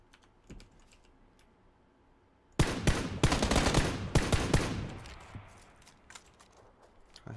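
Gunfire in PUBG, a sudden loud burst of rapid automatic shots breaking a quiet stretch, rattling for about two seconds and then trailing off into scattered echoing shots and softer movement sounds, with no voices.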